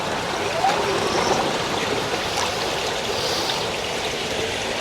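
Water rushes and splashes continuously in a pool after a robot pool cleaner, the Aiper Scuba X1, is thrown in, a steady broadband trickling wash that stays at an even level throughout.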